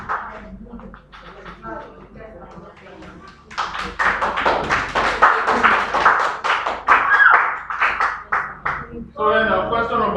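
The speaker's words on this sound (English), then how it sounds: "A round of applause for her." A short burst of clapping for a student in an online maths class, the dense taps loud and steady for several seconds, with talk before and a voice returning at the end.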